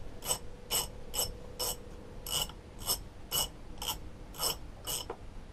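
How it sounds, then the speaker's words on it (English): A ratchet wrench clicks in about eleven quick, evenly spaced bursts while unbolting a part from a Stihl MS181 chainsaw that is not running correctly. The rasping is close and moderately loud, with no talking. "what we've got to do now is unbolt this"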